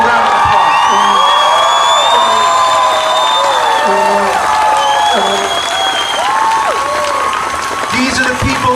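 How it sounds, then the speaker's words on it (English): A crowd at a political rally claps steadily and cheers, with whoops and shouts rising above the continuous applause, loud and close throughout. "Give these people a round of applause"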